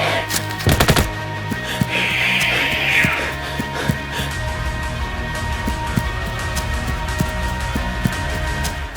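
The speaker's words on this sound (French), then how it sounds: "Alors que des coups de feu retentissent autour de nous" Airsoft guns fire during an outdoor skirmish, with a dense burst of sharp pops early on followed by scattered, irregular snapping shots near and far over a continuous background noise.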